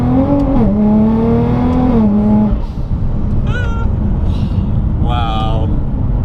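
Rocket Bunny Nissan GT-R pulling hard in second gear, its engine note rising loud and close from inside the cabin before a shift, then droning on with a turbo whistle-like whine while a person talks over it.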